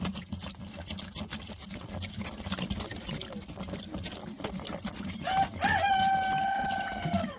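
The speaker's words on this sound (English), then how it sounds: "It's a rooster, Robin." A loud rooster crows near the end, a long drawn-out call rising over steady background noise and splashing water in a hot, dry desert garden.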